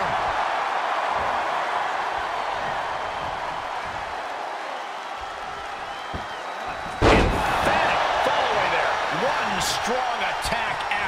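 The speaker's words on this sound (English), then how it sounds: "Look at this power slam!" A power slam lands as a single heavy thud in a WWE 2K22 wrestling match between Cesaro and Kyle O'Reilly, following a stretch of crowd noise and commentary, with a lively arena crowd roaring on afterward.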